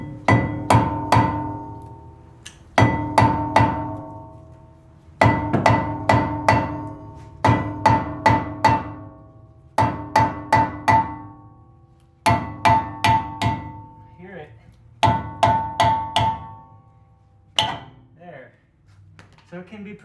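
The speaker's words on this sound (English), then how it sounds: "It's gonna probably have to be hammered on again." Hammer blows ring out against a rust-stuck front brake rotor on a 2012 Toyota Tacoma, struck in bursts of about four to six sharp metallic hits with short pauses between groups, loud and close.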